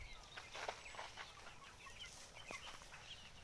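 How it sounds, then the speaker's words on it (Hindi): Desi free-range hens on a small farm in the early morning make soft, scattered clucks and calls, faint and somewhat distant over a quiet outdoor background. "देखिए दोस्तों मुर्गियां बैठी हैं, किस तरह सो रही हैं ये सब देखिए दोस्तों।"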